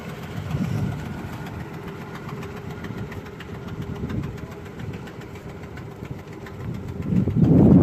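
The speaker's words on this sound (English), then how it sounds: "There's Neil Wampler's old car." An old car's engine idles steadily outdoors at a camp, a low, even rumble with faint knocking that swells slightly toward the end.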